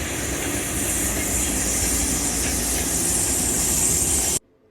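A pair of VL11 electric locomotives pass each other on a Trans-Carpathian mountain gradient in western Ukraine, a loud, continuous rushing roar with hiss and rail noise that cuts off abruptly.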